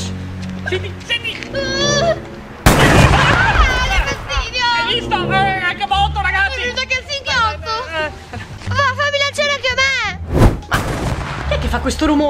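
Firecrackers on New Year's Eve night: sharp bangs and crackling bursts go off, mixed with excited voices talking and shouting nearby over a steady outdoor background.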